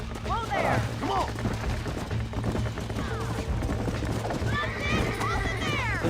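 A horse bucking in the video game Red Dead Redemption, with hoof clatter and several sharp whinnies and neighs over a steady game backdrop while someone talks throughout.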